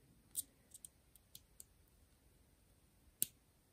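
A gold Milanese loop band is fitted to a 40mm gold aluminum Apple Watch SE, giving a few faint, sharp metallic clicks scattered over several seconds in an otherwise quiet room.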